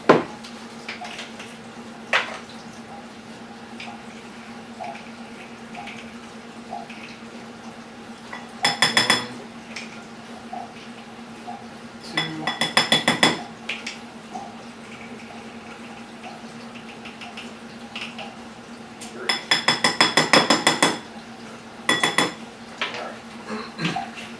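Erythritol and cinnamon get mixed in a bowl for a snickerdoodle skillet cookie, with several short bursts of rapid metal-on-bowl clinking and whisking against a steady low hum, no speech.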